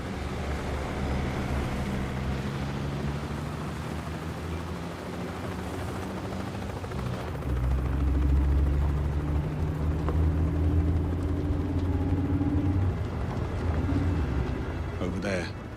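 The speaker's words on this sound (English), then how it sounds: "Bavma's heli is inbound" Helicopter approaching in the game 007 First Light, a low droning rotor rumble that thickens and grows louder partway through, with a layered game soundscape around it.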